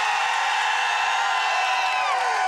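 Front-row fans at a Capcom panel for Monster Hunter Wilds at PAX West 2024 cheer and whoop loudly in a dense, high-pitched burst of crowd noise.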